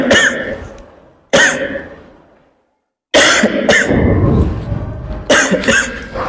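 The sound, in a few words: coughing in a tuberculosis skit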